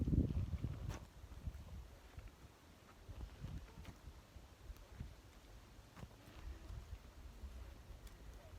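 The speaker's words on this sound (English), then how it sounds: "I'm a bit afraid that it's too windy to hear what I'm saying" Wind gusting through a home vegetable garden, buffeting the microphone with low rumbling bursts that swell strongly at first, then ease into a steady, moderately loud rush with periodic gusts and no talking.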